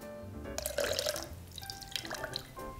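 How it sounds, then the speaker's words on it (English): Egg whites poured into a cocktail mixing tin for a tequila daisy, a soft close splashing and dribbling liquid pour lasting a couple of seconds, quiet with no talking. "To this, we'll add our egg whites."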